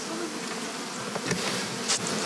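Honeybees buzz in a dense, steady swarm around beehives at a Ukrainian apiary in Kropyvnytskyi district, where many bees have died. The drone stays close and even throughout, with a few brief louder passes.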